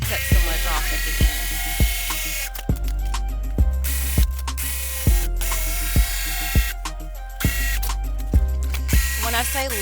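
A jigsaw cuts through material for a handmade nail polish prop, its motor buzzing steadily with sharp rhythmic clacks recurring roughly every second, close and fairly loud, with no talking.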